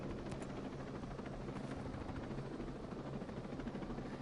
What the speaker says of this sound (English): How do I turn down this helicopters?